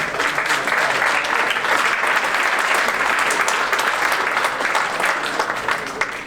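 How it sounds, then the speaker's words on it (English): Sustained applause from a conference audience honoring a panel of speakers at a sports marketing session, a dense, even wash of clapping that holds steady and tapers slightly at the end. "have a round of applause for all these speakers"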